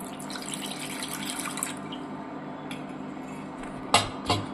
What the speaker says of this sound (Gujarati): હવે આપણે આની અંદર પહેલાં થોડું સાદું પાણી નાખીશું